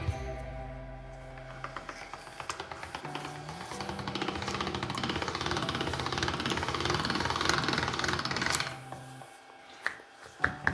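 Fresh pasta dough rolled through a hand-cranked pasta machine at its thickest setting, giving a steady grinding, rasping mechanical rumble for about nine seconds before stopping, followed by a few light knocks.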